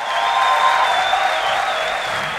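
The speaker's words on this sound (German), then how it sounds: "Großer Applaus hier." An audience applauds performers on a stage in a continuous, loud wash of clapping with some crowd noise, and a steady high tone runs beneath it the whole time.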